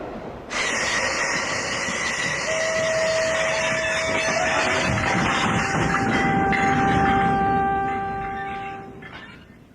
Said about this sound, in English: When does this train stop? It doesn't stop. It's straight through to London.